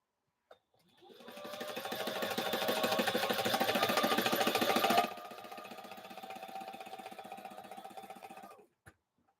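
A sewing machine stitches panels of heavy curtain fabric, running in a steady fast mechanical whir that slows to a lighter, quieter hum midway before stopping, with a brief click at the start and end.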